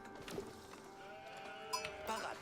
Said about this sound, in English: Sheep just came here in time.